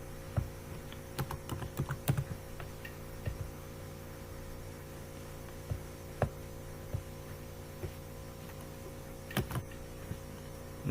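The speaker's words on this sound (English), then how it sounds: "let's type a text." Clicky keystrokes on a computer keyboard, tapped in short irregular bursts with pauses between them, close and fairly quiet over a steady low hum.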